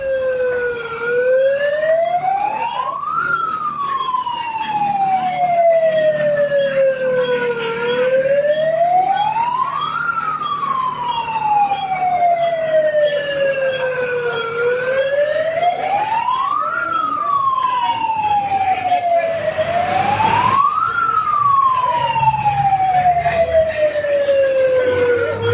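A fire brigade siren wails in steady rising and falling sweeps, loud and continuous, as a fire engine responds to a blaze at a helmet showroom, with traffic rumbling faintly beneath.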